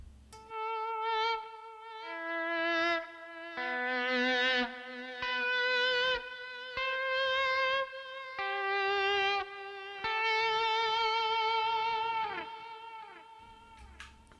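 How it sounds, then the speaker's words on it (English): Distorted electric guitar through a Tech 21 Fly Rig 5, a series of sustained, gritty chords and notes played in separate phrases, loud and close with no voices. "Put a little distortion in there."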